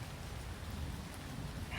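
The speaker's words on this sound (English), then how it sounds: "it is raining, and it was raining pretty hard" Rain falling steadily outdoors by the water at a carp fishing spot, a soft dense patter of drops on surfaces with no other sounds.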